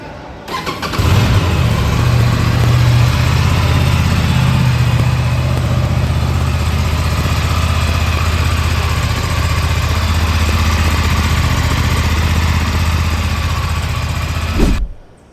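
An Aprilia RS457 motorcycle engine starts up close by and settles into a loud, steady idle that runs for about fourteen seconds before cutting off abruptly.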